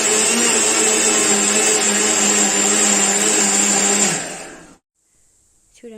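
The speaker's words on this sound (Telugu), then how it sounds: "ఇప్పుడు వీటన్నిటిని మనము మిక్సీ పట్టేసుకోవాలి." A kitchen mixer grinder powders ingredients with cardamom for a toddler's recipe, whirring loud and steady for about four seconds before winding down and stopping, followed by near silence and a faint clink.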